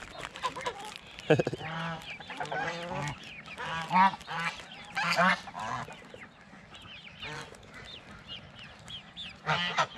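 Geese honk repeatedly in a noisy, overlapping chorus close by, with harsh nasal calls coming in bursts and no one talking.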